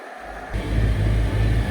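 A JCB Fastrac tractor on oversized tyres runs close by on a farm during wet-weather maize harvest, a loud steady low engine drone that swells as it revs, with no talk.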